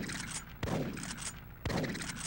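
Gunshots from the video game Big Buck Safari: two sharp, booming reports about a second apart, each followed by a short decaying tail, heard over steady game background sound.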